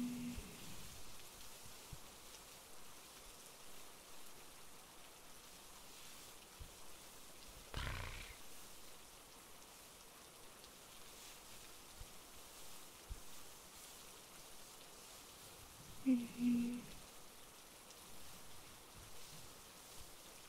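Steady rain patters down continuously at low volume, a soft even hiss filling the background, broken by a brief louder rustle midway and a short low rumbling burst near the end.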